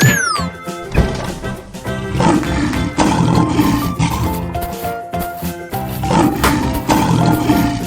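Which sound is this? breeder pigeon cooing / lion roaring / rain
lion roaring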